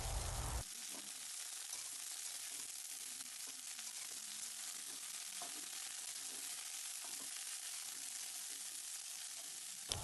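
Bori, small lentil dumplings, frying in white oil while being turned over, a steady even sizzle that starts after a brief louder burst, close and continuous with a few faint stirring taps.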